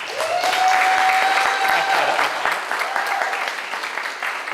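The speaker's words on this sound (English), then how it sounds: "Please give a warm applause while we welcome Robert Holgate up." Warm, full audience applause greeting Robert Holgate as he comes up to an awards event, dense sustained clapping with a brief tonal whistle or feedback line running through it early on.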